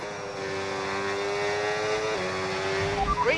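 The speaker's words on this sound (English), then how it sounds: "That's an Audi stopping." An Audi Formula 1 car in the F1 26 racing game, on the Monaco circuit, whines with a steady high engine tone that drops as it slows to a stop on track. The engine sound continues without a break.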